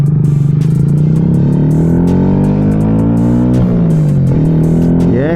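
A Honda Grom SP motorcycle fitted with a new aftermarket ECU revs up close and loud, its engine tone rising steadily, dipping briefly, then climbing again with no talk.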